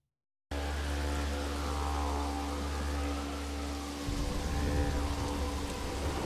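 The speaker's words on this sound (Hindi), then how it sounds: "महाकाल की नगरी में मेघकाल में हो रही मूसलाधार बारिश ने बाढ़ जैसे हालात बना दिए हैं।" Torrential monsoon rain pours down in Ujjain as a dense, constant roar of drops, starting abruptly and growing heavier and rougher toward the end.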